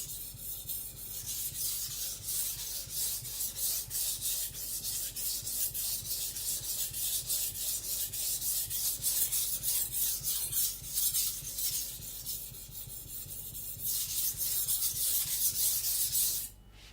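A Sakon Ryuga high speed steel gyuto is thinned on a Shapton Glass 220 whetstone with rhythmic, gritty back-and-forth rasping strokes, close and steady for about sixteen seconds before stopping.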